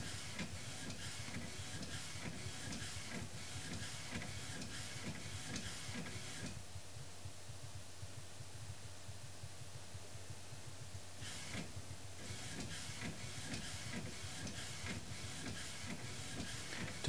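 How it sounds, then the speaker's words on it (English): Inkjet printer feeding paper and printing a sheet of three Christmas ornaments, with steady mechanical whirring and repeated head passes; a quieter pause of several seconds in the middle before the rhythmic printing resumes, with no talk. "This is going to come across kind of like it's pulling the paper through."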